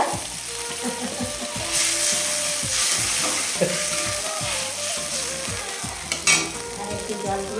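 Fish and potatoes frying together in a pan while being stirred, a loud, close sizzle with repeated rhythmic scrapes and clanks of the spoon against the metal.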